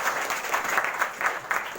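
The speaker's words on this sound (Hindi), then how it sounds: "जोरदार ताली बजाओ।" Children clap together loudly at an awareness campaign gathering, a short burst of rhythmic, fairly close applause with pulsing beats.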